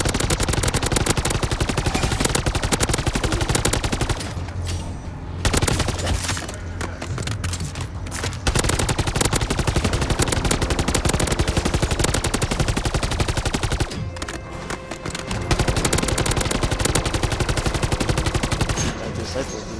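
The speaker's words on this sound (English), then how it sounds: "I'm loving up the new battle rifle" A battle rifle fires in rapid bursts during Modern Warfare 3 Zombies gameplay, loud and close, with a few brief lulls between long stretches of shooting.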